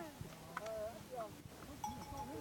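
Cattle or buffalo lowing and bellowing with a few scattered calls, fairly faint over outdoor background, with a voice talking underneath.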